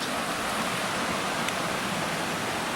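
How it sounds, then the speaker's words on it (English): Steady, dense rush of stream water flowing along a hiking trail to Lake Katherine, close and continuous with no voices. "And the water is still flowing great."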